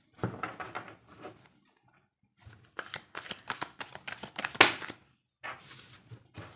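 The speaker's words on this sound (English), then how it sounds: "So let us pull more cards." Tarot cards are shuffled and drawn by hand in short, crisp riffling bursts separated by brief pauses, close and fairly quiet, with a soft flick as a card is pulled.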